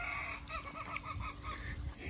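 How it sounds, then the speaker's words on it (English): Rooster calling in the background outdoors, a faint, broken series of crowing and clucking notes over a low steady hum. "That damn rooster's laughing at me."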